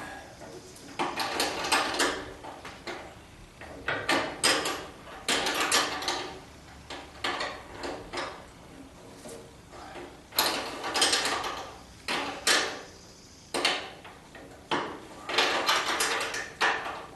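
A line wrench works a steel brake line fitting on a 1976 Corvette restomod, giving repeated short metallic clicks and ratcheting scrapes in uneven bursts, close and fairly quiet.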